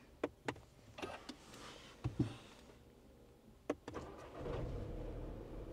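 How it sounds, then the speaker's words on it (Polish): A 2024 facelifted Skoda Scala 1.0 TSI is started with a push button: a few sharp cabin clicks come first, then the small three-cylinder engine catches and settles into a steady, quiet idle close by. "Z kolei silnik uruchamiamy tym przyciskiem."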